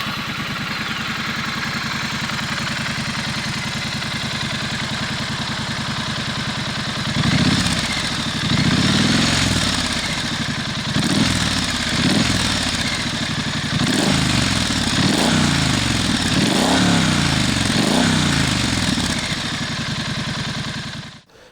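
A Triumph Street Scrambler with a high-mounted twin exhaust idles steadily at first, then gives a series of deep, throaty revs that rise and fall. It is close and loud, and no one speaks.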